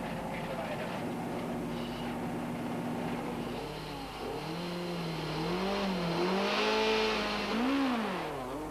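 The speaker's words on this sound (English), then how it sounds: "Serge throttles the conquest into the stage, officially starting the 1993 Volkswagen Algoa Rally" A Conquest rally car throttles hard into a 1.7 km parking lot stage at the 1993 Volkswagen Algoa Rally. The engine note rises and falls through several revving surges over steady broadband noise, growing louder toward the end.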